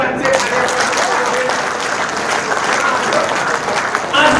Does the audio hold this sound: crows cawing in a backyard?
no